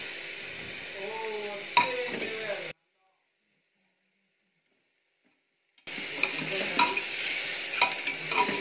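Eggs pierced with a knife sizzle and scrape as they are stirred in a pan for egg biryani, with faint voices over the frying, a sudden silence midway, then the sizzling and stirring resume.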